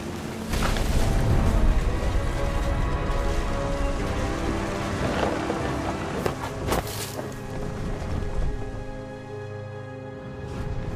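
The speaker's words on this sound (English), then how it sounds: "The thunder sounded much too close and full of angry power." Heavy rain pours steadily in What Remains of Edith Finch, with deep rumbles and booms of close thunder rolling through a game thunderstorm, a sharp crack near the middle, and no talking.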